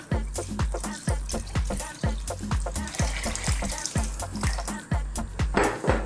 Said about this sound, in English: Next step, we're going to add water.